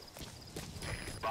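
A horse's hooves clip-clop at a steady walking pace in Metal Gear Solid V, quiet and fairly close, with no other sounds over them.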